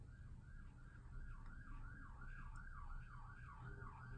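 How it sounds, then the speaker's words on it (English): Emergency vehicle siren outdoors in the distance, a faint steady wavering wail that oscillates rapidly and evenly over low background rumble. "Gotta love those sirens"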